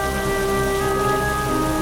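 Heavy rain in a storm pours down steadily as a dense, continuous hiss and patter with no pauses, loud and close, with no voices.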